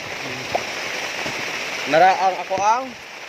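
Steady rain hisses evenly across the whole stretch, a continuous wash of falling water with a few soft drips, while a voice talks briefly over it near the end.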